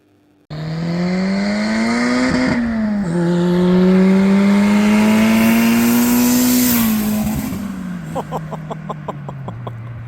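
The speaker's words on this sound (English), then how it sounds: "This is the first time witnessing a flyby. The V20 v-tec big turbo Civic EG hatch." A V20 VTEC big-turbo Civic EG hatch roars past, its engine loud and rising through two gear changes. The note then fades as it pulls away, ending in a rapid stutter of pops.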